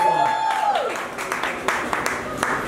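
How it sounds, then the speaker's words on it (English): An audience at a taco eating contest breaks into applause for the contestants, a dense crackle of clapping that builds just after a sustained tone fades out. "Round of applause for all these contestants getting through this one."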